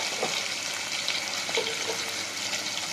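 Green chillies, sliced lengthwise, sauté in hot oil in a kadai, a steady close sizzle with faint scattered pops and light stirring throughout, no voices.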